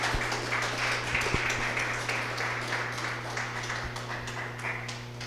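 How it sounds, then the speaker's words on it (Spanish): A church congregation claps together as an offering of praise to the Lord, a broad, sustained wash of many hands with a few sharper individual claps standing out nearby. "Alguien tiene una ofrenda de aplausos al Señor"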